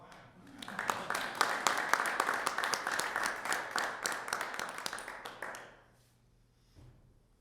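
An afternoon audience claps together in a room for several seconds, a steady dense patter that tapers off and leaves quiet room tone.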